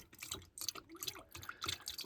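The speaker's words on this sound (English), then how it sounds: "I'm dumping just a little bit of green in through the thermostat hole" Green coolant trickles and splashes into the thermostat hole of a 1982 Toyota BJ60 diesel Land Cruiser engine, faint irregular drips and small gurgles, close by.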